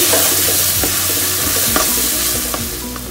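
Pav bhaji vegetables and spices hiss loudly in a hot pan, with repeated spatula scrapes and knocks against the metal over the continuous sizzle.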